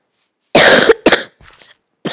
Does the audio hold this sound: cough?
yes